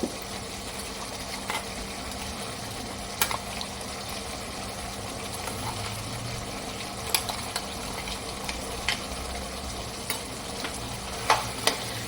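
Mutton and roasted, ground pepper masala being stirred together in a pan on low heat: a steady, close oil sizzle runs throughout, with occasional sharp scrapes and clicks of the spoon against the pan, and no voices.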